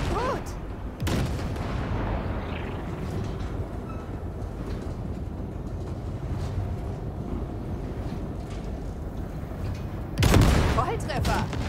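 Gunfire at wrecks in Cyberpunk 2077, with shots booming out over a steady rumbling vehicle drone, a loud blast near the start and another heavy burst near the end, voices talking in between.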